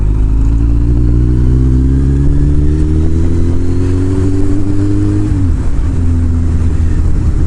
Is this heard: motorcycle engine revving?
yes